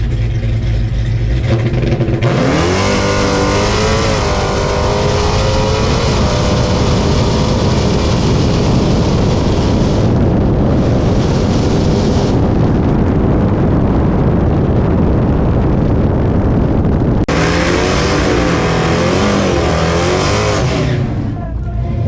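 A drag race launch at MSHS Orlando, the car Frostbite pulling away against Hellcats: loud engine roar rising as it revs and accelerates, a sustained blast for most of the run, then a second surge near the end, with voices over it.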